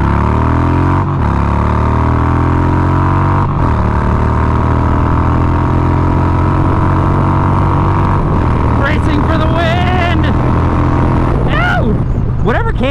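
Harley-Davidson Twin Cam Softail pulls away hard in first gear, its loud, close engine note climbing steadily with a couple of brief dips before rising to a strained rev near the end.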